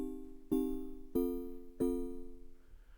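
A mallet-on-beam patch from the Collision synth in Ableton Live 10 plays three evenly spaced struck notes, each a bright metallic ping with a ringing tonal sustain that decays into the next hit.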